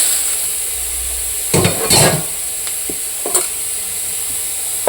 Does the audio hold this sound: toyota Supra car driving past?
no